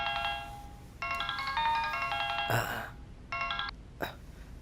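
A phone ringtone in a Hindi-dubbed film plays in short bursts of bright electronic tones, broken by pauses and a brief throat-clearing noise, close and moderately loud.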